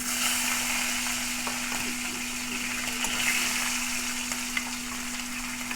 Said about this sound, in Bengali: মাছগুলো দিয়ে খালি হালকা একটু ভেজে নেব।